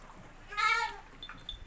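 A goat kid gives a single short, wavering bleat from a little distance, with quieter farmyard background and no talk.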